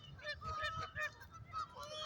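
Geese honk repeatedly in a noisy cluster, with several nasal calls overlapping at close range in an uneven rhythm.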